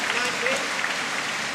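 Crowd applauding the home players at a badminton match at the 2014 World Championships, a steady wash of clapping from a large indoor audience under commentary voices.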